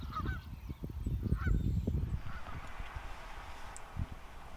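A flock of geese in Wisconsin honks steadily, several birds calling over one another at moderate distance, with the calls thinning out later.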